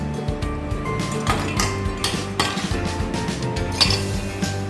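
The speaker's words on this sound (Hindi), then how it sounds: "तो अब इसमें हम सबसे पहले आइस डाल देंगे।" Ice cubes tumbling into a glass for falooda kulfi, a run of bright clinks and knocks clustered close together, loud and near, with no voices.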